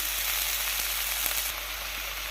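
Tempering for sambar sizzles in a hot pan, a dense crackling hiss with a few small pops, steady and close, easing slightly toward the end.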